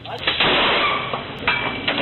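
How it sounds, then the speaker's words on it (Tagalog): Gunfire from a security guard shooting a fellow guard at a guardhouse in Caloocan City, heard as sharp bangs spaced through a dense, loud, band-limited CCTV-style recording with constant noise. "Naghabulan ng dalawa bago tinutukan at binaril ni Perote si Moreno"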